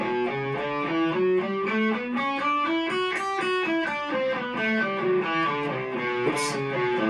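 A distorted electric guitar plays a Lydian-mode scale with a sharpened fourth, single notes stepping up and then back down at an even pace, close and loud with no voices.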